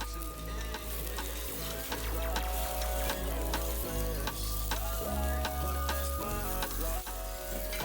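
Vegetables with broccoli sauté in a pan, sizzling continuously with intermittent scraping and clicks of stirring, close and fairly quiet, with no voices.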